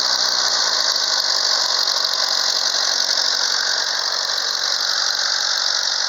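A 1940 Farmall A tractor engine running steadily after frozen-engine repairs, a loud continuous drone with a high squealing tone throughout, heard alone.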